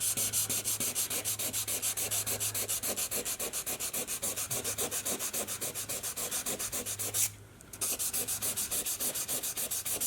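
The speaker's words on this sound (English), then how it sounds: "keep on sanding till you get that paint blob" Sandpaper rubbing by hand over a blob of touch-up paint, a fast, even back-and-forth scratching rhythm close up, briefly pausing near the end before resuming.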